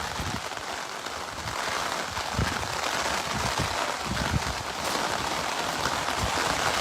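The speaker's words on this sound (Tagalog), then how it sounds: "Wala, lumalakas lalo yung ulan." Heavy typhoon rain pours down steadily during a flood in Marilao, Philippines, a dense, continuous hiss of drops striking surfaces that builds slightly in intensity throughout, with no speech.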